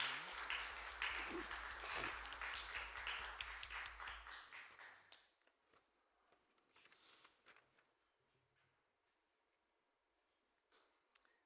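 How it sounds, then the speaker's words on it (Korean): A church congregation at a Christmas thanksgiving service gives a round of encouraging applause that runs strong for about five seconds, then fades to a few scattered claps and quiet room noise. "큰 격려와 축복의 박수 한번 보냈으면 좋겠습니다"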